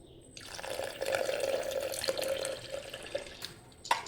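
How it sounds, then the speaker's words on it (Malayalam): Water pours steadily into a blender jar holding milk for juice for a few seconds, then trickles off with a couple of drips and a light clink. "ഇനി നമുക്ക് ഇതിലോട്ട് ഒരു കപ്പ് വെള്ളം കൂടി ആഡ് ചെയ്യാം"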